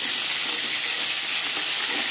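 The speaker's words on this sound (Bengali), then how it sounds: "একটা সাইড ভাজা হয়ে গেলে অপর সাইডটা উল্টে দেবো।" Pieces of Bhola sea fish fry in a pan with oil, a continuous bright sizzle and crackle, close and even, with no talking.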